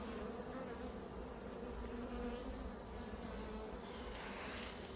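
Honey bees buzz steadily at an opened wild-swarm hive during an inspection, a dense, continuous close drone with no talk.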